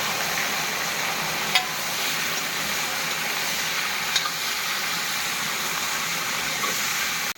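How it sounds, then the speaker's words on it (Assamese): Onions and chillies frying in a pan for a vegetable curry: a steady, close sizzle with constant hiss, and a couple of faint clicks from stirring. "এটা পিয়াজ জলকীয়াটো ভাজিবা জলকীয়া ভাজা হৈ গ'ল"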